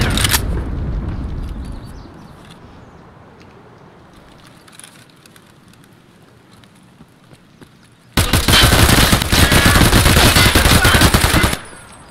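Machine guns blaze in a video game gunfight: a short burst at the start, a quieter stretch of scattered shots, then a long, loud, sustained burst of rapid automatic fire that suddenly stops.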